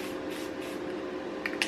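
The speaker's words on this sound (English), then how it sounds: "we're just going to hit it with a light dusting of spray paint." A spray paint can hisses in a steady continuous spray, giving a light dusting over metal templates laid on sheet metal, close and even with a couple of short sputters near the end.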